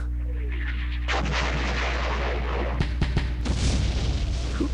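War video game battle on the western front with booming artillery and sporadic gunfire, a low steady drone underneath, then a cluster of sharp shots and heavy thuds toward the end.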